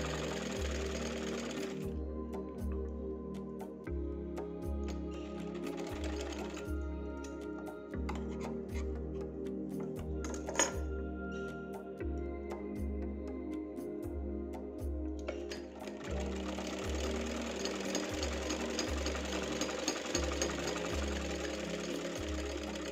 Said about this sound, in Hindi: इसकी दोनों साइड की सिलाई कर ली, तीसरी साइड की भी करेंगे